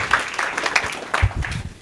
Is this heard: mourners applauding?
yes